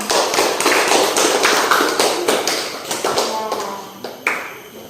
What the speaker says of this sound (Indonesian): minta kasih tepuk tangan